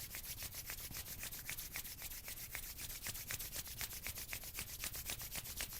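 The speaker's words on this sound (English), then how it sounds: "And rub the hands together." Hands rubbing briskly together in a quiet gentle yoga session, a steady close swishing with quick regular strokes running through the whole stretch.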